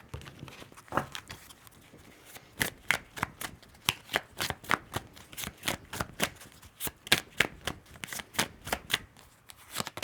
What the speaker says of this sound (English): Let's pull your preview card.